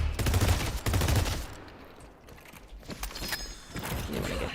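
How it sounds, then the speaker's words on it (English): Rapid carbine gunfire from the Deadlock video game, dense bursts of shots up front that thin out, with mechanical clicks and game effects behind them. "So I'm shooting my carbine."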